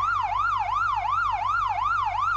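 A loud, steady wailing police siren in the BeamNG.drive video game sweeps up and down in a quick repeating rhythm, close and continuous with no other sounds.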